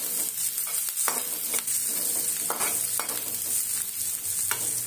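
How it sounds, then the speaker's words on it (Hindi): Onion and green chili frying in a pan, a continuous close sizzle with repeated stirring scrapes at a steady pace. "प्याज और हरी मिर्च अच्छे से प्याज थोड़े लाल होने तक भूनेंगे।"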